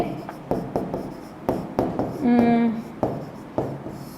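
Marker or chalk strokes on a board during a maths lesson, a run of short scratchy taps and scrapes in irregular rhythm, close and moderately loud, with a brief tonal squeak midway.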